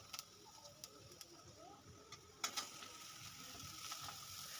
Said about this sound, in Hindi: तो आलू को भी थोड़ी देर ऐसे ही भून लो।